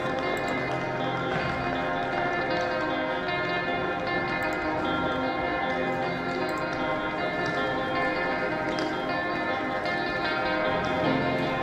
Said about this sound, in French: C'est les cloches de Saint-Malo